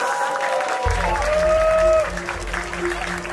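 Applause at an anniversary dedication and rooftop ceremony, steady clapping from a crowd under music, with a low hum entering partway through.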